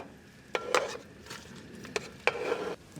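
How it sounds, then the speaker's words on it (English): Chopped onions tumbled into a pan of melted butter for mac and cheese, then stirred with a few close clacks of a utensil against the pan over a soft sizzle, no voices. "so let's get our onions in."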